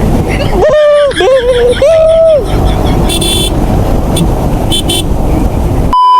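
A voice loudly imitates a vehicle horn with a few drawn-out beeping toots, followed by steady road noise from a Yamaha R15 V3 motorcycle and brief high electronic tones.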